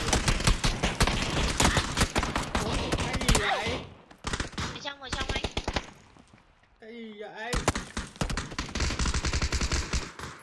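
Rapid automatic gunfire bursts from a shooter video game, loud and dense at the start and end with a quieter gap in the middle, while players talk over the action.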